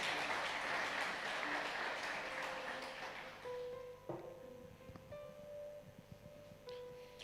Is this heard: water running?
no